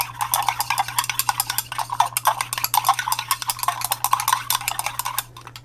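Sweet almond oil facial toner mixture stirred steadily in a container, producing a close, continuous run of light scraping and clinking strokes over a low steady hum, ending abruptly.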